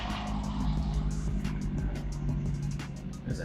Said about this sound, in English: There's a helicopter going by.